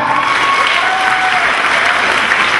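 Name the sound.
audience applause at reunion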